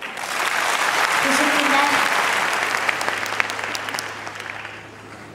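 A studio audience at the Yetenek Sizsiniz Türkiye talent show breaks into loud, sustained applause that swells and then slowly fades, with a voice speaking over it.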